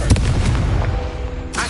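A Confringo fire spell explodes in the wizarding game Hogwarts Legacy, a loud close burst with a booming, crackling tail that fades over about a second.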